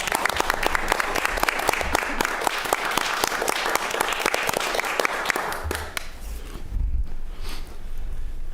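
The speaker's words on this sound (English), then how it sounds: "I'd suggest that we all give JC a round of applause, and maybe a standing ovation" Applause and a standing ovation at a city Forest and Beach Commission meeting, many hands clapping steadily for several seconds before it fades and gives way to low room murmur and shuffling.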